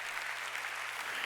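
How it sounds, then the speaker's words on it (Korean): Steady applause from a church congregation during a Korean sermon, a continuous even patter of clapping that stays moderately quiet with no voices over it. "깨달은 사람만 박수"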